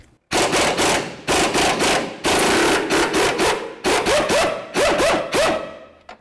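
A control arm bolt is loosened on a 2003-08 Toyota Matrix during a front lower control arm replacement, heard as a series of loud, rapid rattling bursts with short pauses between them, close to the listener.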